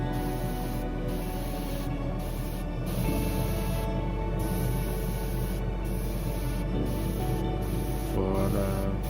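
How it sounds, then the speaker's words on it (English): An airbrush hisses in a steady, close spray of paint onto a 1:24 scale Mercedes AMG GT Black Series model car, with short gaps and a faint mechanical hum underneath. "You need to make sure with these paints, airbrush, you adding enough layers."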